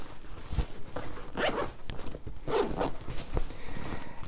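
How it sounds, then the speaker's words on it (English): A backpack top-pocket zipper with double pulls is opened in a few quick, scratchy strokes, close by, with a light thump or two between pulls. "When you open up these top pockets, both of them have double zipper pulls."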